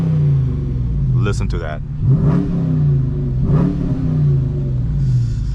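A Dodge Challenger R/T V8 in sport mode with traction control off, revving up to a 4,000 RPM soft limiter; its exhaust rises and falls in two or three loud, throaty sweeps over a steady idle rumble, while someone talks over it.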